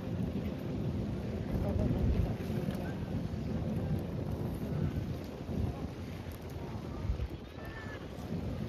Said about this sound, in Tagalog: Delikado kasi mahangin.